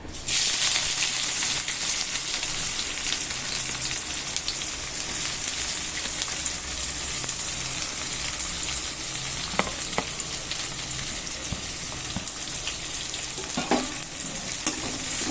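Chopped onions and green chillies sizzle steadily in hot oil for chapati kurma, a loud continuous frying crackle with occasional stirring scrapes, no voices.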